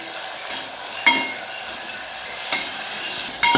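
Tomatoes with salt softening in a pan for a green chilli varan, a steady soft sizzle with a few sharp clinks and scrapes of a spoon against the pan, close and alone.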